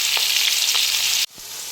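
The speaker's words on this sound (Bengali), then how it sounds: "পেঁয়াজটা একটু ভেজে নেব।" Onions sizzle and fry in hot mustard oil, a steady loud crackle that cuts off abruptly near the end, leaving a quieter hiss.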